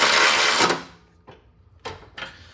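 SHIELDPRO cordless ratchet running, a loud close high-pitched motor whir that stops abruptly, followed by a few short bursts of spinning.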